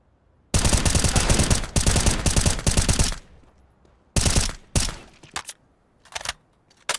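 Rapid automatic gunfire in CS:GO, a loud sustained burst of close shots for over two seconds, then a pause followed by shorter bursts and scattered single shots, with no talk over it.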